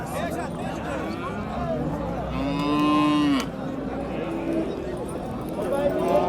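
At a busy Qashqadarya livestock market, a young bull lets out one long, loud moo, with other cattle lowing faintly and people talking throughout.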